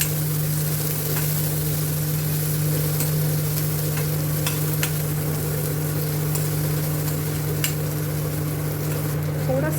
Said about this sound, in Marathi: छानपणे आपल्याला हे हलवून घ्यायचं.